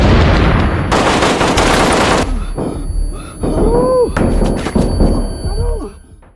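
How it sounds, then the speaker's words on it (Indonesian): Bomb blast and gunfire in a hotel attack scene in a film about the Mumbai siege: a loud broadband burst, then thuds, sharp impacts and scattered shots mixed with shouting voices. "langsung melempar bom"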